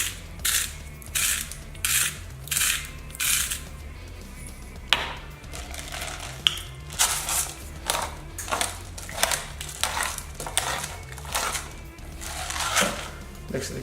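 A hand grinder cranks salt and pepper in bursts of rapid ratcheting crunches, roughly a dozen short runs of turns close to the listener, with quiet gaps between them.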